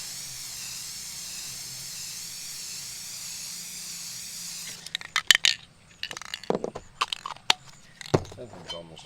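An aerosol clear coat spray can spraying over a painting, producing a steady, close hiss for about five seconds. Clattering handling noises follow, and people talk.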